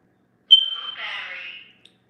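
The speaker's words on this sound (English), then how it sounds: "that's my fire, my smoke alarm. You know, I gotta put a battery in there." A single sharp electronic chirp from a smoke alarm needing a battery rings out, followed by a burst of muffled, overlapping sound that fades after about a second.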